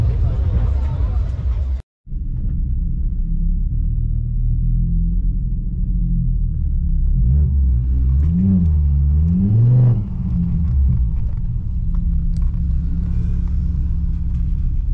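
Loud, continuous engine roar with rising revs as drag racing cars accelerate up the strip at Santa Pod Raceway, a crowd murmuring underneath throughout.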